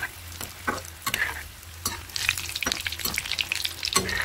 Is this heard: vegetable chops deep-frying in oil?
yes